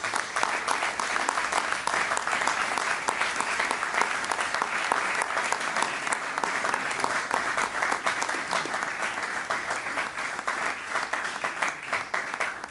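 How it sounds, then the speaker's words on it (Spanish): A church congregation applauds for Christ Jesus after a sermon, a sustained, dense wash of clapping that stays steady for nearly thirteen seconds with no break. "Vamos a darle un fuerte aplauso a Cristo Jesús."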